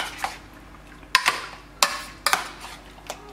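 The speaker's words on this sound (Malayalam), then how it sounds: "ഞാനിപ്പോൾ ഇത് സ്പൂണോട് നന്നായിട്ട് മിക്സ് ചെയ്യാണ്" A spoon clinks against a bowl while mixing a green chilli curry mixture, a few sharp separate taps and scrapes at irregular intervals, close and clear.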